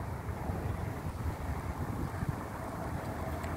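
A Turkish Airlines Boeing 787 takes off at LAX, heard as a low, steady distant roar smeared with wind buffeting on the microphone, fairly faint and without voices.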